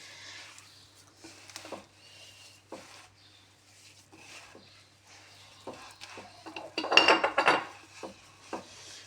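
Sellou flour with toasted sesame, almonds and a little oil being worked by hand in a bowl: soft rubbing and rustling with scattered light taps and clinks, a louder burst of scraping near the end, no talk.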